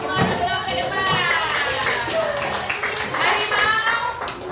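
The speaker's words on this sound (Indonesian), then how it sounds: "Tepuk tangan buat kita semua sebelum ke depan." A group in a classroom claps hands together, quick irregular claps mixed with children's voices chattering loudly over them throughout.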